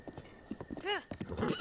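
A horse in the video game Zelda Breath of the Wild gallops with quick hoof clops and lets out one loud, rising whinny midway, with a faint voice in the background.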